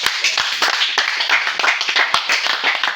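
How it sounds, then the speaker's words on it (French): Applause from an audience at a Cameroonian community mini-tournament in Moanda, Gabon, greeting the president: steady dense hand clapping from a nearby crowd, continuous for about three seconds. "Et acclamer le président"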